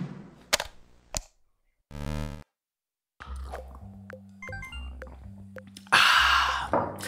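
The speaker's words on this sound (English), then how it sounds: "No, it's explosions." Retro chiptune explosion effects from a Pico-8 shoot-'em-up game: a series of short, sharp noisy pops and crackling bursts with a few tonal blips, spaced irregularly and ending in a louder, longer blast.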